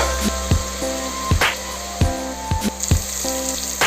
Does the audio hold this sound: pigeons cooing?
no